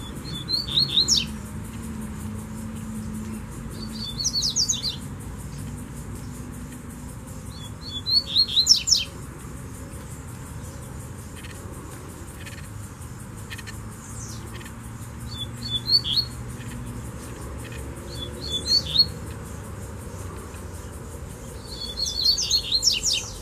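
Coleiro (double-collared seedeater) birds with a female present, short sharp chirping song phrases repeating every few seconds over a steady low background hum.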